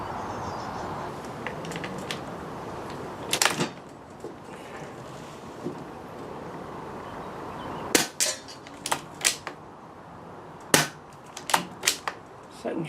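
Air Arms S200 air rifle firing shots outdoors on a windy range, sharp cracks with several sounding in quick succession over a low background hiss.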